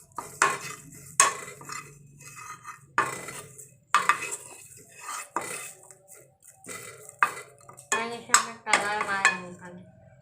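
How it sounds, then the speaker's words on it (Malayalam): Curry leaves stirred and fried in a pan for dosa and idli chutney powder, with repeated scraping and clinking of a utensil against the pan in irregular bursts and only faint sizzling beneath, close by. "നമുക്കിനി കുറച്ചും കൂടെ ഒന്ന് ഫ്രൈ ആക്കി എടുക്കണം."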